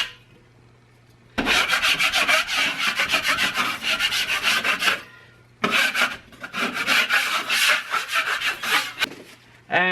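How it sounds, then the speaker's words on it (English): Rhythmic rasping strokes of hand sanding scrape across a wall in two long sustained bouts, close and loud, separated by a brief pause. "I'm also going to do another quick sanding of the wall."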